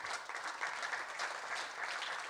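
A congress audience at the FIH hockey gathering gives a welcoming round of applause: a continuous, even patter of many hands, heard faintly from a distance with no voices on top.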